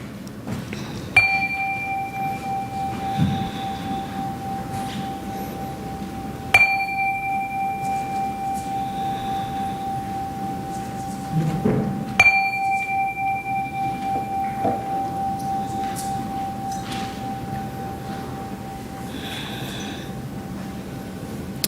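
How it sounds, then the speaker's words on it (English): A chime rung during a Sunday service at the Quimper Unitarian Universalist Fellowship is struck three times at spaced intervals, each bright tone ringing out and decaying slowly in a quiet room. "I will now ring the chime to assist us in settling our minds and calming our hearts."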